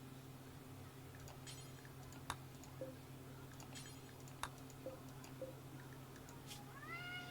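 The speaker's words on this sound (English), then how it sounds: "see what I can do about the kitty being loud" A cat meows several times at low volume. The meows are spaced out across a quiet indoor room with a steady hum, and scattered clicks resemble keyboard typing.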